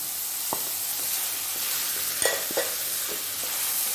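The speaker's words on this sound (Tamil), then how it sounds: "நல்லா பொன்னிறமாக மாறுற அளவுக்கு நல்லா வதக்கிக்கணும்." Chopped onions with curry leaves and green chillies sizzle steadily in a pan for a chicken kulambu, a soft even frying hiss broken by a few light scrapes of a stirring spoon, quiet and close with no talking.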